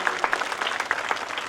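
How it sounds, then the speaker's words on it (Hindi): A gathering at a Ram Katha religious recital in Haryana claps briefly, a moderate patter of many hands heard at some distance. "एक बार जोरदार उनके लिए तालियां"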